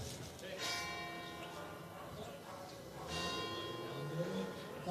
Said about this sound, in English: umpire calling for silence as the church bells toll